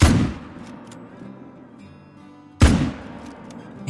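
Hunting rifle fired at red deer in theHunter on the Te Awaroa map: two loud, sharp cracks about two and a half seconds apart, each trailing off in a long ringing echo.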